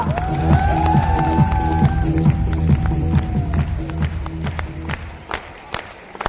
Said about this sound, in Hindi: तो आप सबके लिए, जो भी आप बैठे हैं यहाँ पे, सबके लिए जोरदार तालियां।